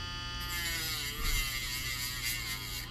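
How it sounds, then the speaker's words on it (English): A rotary tool grinds through the clear plastic of a SMOK NORD vape pod with a close, high buzzing whine that wavers slightly as pressure shifts, heard alone. "grind through the clear plastic, because that's where the juice is"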